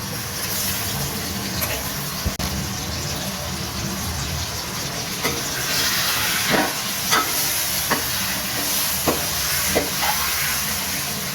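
Tomatoes fry in a pan for a chicken and bottle gourd curry while being stirred, a constant sizzling hiss broken by scraping and clinking strokes of a spoon, close by, with no speech.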